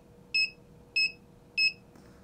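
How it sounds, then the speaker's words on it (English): An ESP32 reverse range warning buzzer sounds three short, evenly spaced electronic beeps, clear and close against a quiet background. "it will start beeping"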